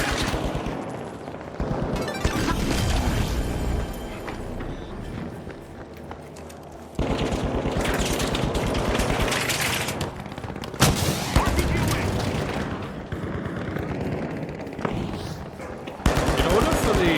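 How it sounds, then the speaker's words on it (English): Rapid machine gun fire in a shooter video game, repeated loud bursts and rattling volleys throughout with in-game action sounds between, and a voice speaking at times under the shooting. "it's a machine gun, that's annoying"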